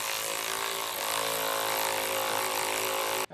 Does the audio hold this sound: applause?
no